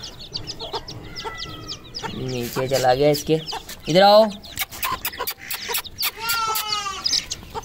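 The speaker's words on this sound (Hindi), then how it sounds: "ये रही जी हमारी मुर्गी, बहुत अच्छे तरीके से जो है ये चूज़े पाल रही।" A hen, a Silver Sebright, clucks repeatedly beside her young chicks, with a few higher chick peeps mixed in, all close and fairly loud while someone talks over them now and then.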